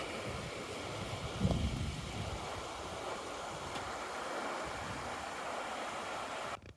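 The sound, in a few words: Waptus River flowing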